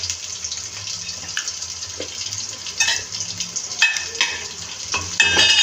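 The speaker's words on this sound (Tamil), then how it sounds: "போட்டு நல்லா வதக்க விடுங்க நல்லா வெங்காயம் பொன்னிறமாக வரணும்" Onions sauté in a pot with cinnamon, cloves and cardamom for chicken biryani, giving a moderate sizzle. Louder stirring and scraping clanks break in irregularly, and a watery, tap-like hiss sits in the background. No one speaks.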